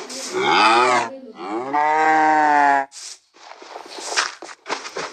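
Two long, loud cow moos in a row, deep and drawn out, followed by scuffling and rustling noises close by.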